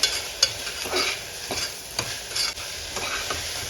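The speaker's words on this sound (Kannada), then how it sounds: "ಟೊಮೊಟೊ ಹಣ್ಣು ಹಾಕಿದ್ಮೇಲೆ ಸ್ವಲ್ಪ ಉಪ್ಪನ್ನು ಹಾಕೊಂಡು ಹುರ್ಕೊಳ್ಳಿ" Tomatoes with salt fry in a pan for a kabuli chana gravy, a steady close sizzle broken by repeated scraping strokes of a stirring spoon, with no voices.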